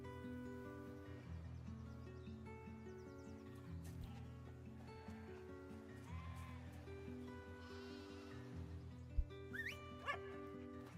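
A dog in a video game gives a few short barks and yips over steady, tonal game music. The barks are brief and fairly faint, with a sharper cluster near the end.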